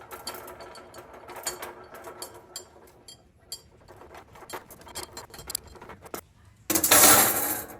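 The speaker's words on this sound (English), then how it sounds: "So I got my little tube cutter. And just slowly crank down on this," A small tube cutter is cranked down and turned around brake line tubing on a Triumph Spitfire restoration, giving faint, close metallic clicks and scraping ticks in an uneven rhythm, followed by a brief louder rustle near the end.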